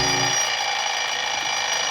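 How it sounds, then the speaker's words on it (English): An alarm clock rings early in the morning, a steady, continuous electronic tone that fills the whole two seconds at even loudness, with no talking over it. "I set my alarm for 5 the next morning"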